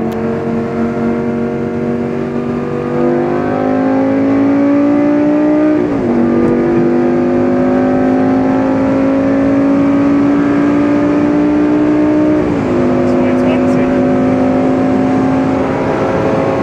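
A Lamborghini Gallardo engine roars at speed, a loud steady drone rising in pitch through the gears with two clear upshift drops, heard from inside the car over road noise.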